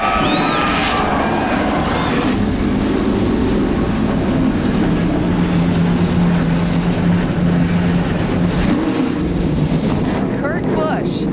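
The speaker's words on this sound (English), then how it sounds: "Gentlemen, start your engines!" Stock car engines fire up and roar together at Daytona for the 2011 Gatorade Duels, a loud, steady, rumbling drone that fills the whole stretch, with voices faintly over it.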